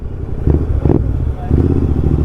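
A Royal Enfield Interceptor 650 with its 648 cc twin engine rumbles loudly at close range, with a couple of throttle blips around the middle and a steady, heavy idle throughout.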